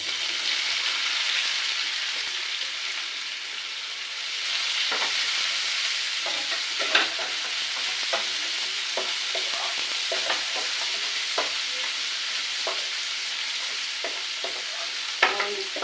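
Chopped onions fry in oil for chowmein, a steady close sizzle broken by frequent spatula scrapes and clinks against the pan throughout, with no one talking.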